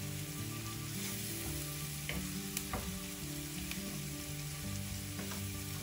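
Ginger garlic paste fries in a pan for mushroom curry, making a loud, continuous crackling sizzle close by, broken by a few sharp pops and utensil taps, with no voices.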